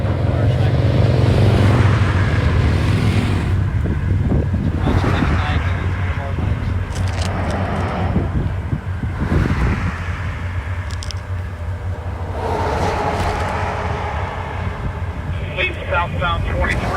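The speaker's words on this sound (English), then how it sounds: "Yep, there's the sheriff's motorcycle." A sheriff's motorcycle and Highway Patrol escort roll past on a street during a fallen soldier's homecoming procession, a steady loud engine rumble swelling and fading as vehicles pass, with a voice talking over it.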